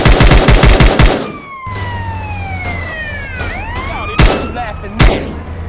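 A rapid burst of M4 automatic rifle fire in a video game, then a quiet stretch with descending whistling tones and two more sharp single shots.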